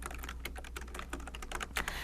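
Rapid typing on a computer keyboard while entering accounting voucher details, a dense steady patter of key clicks over a low hum, close and fairly quiet, with no voices.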